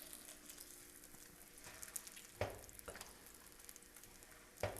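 Corn-free, soy-free bacon frying in a pan, a steady close sizzle and crackle with a couple of sharper pops or scrapes standing out, no voices.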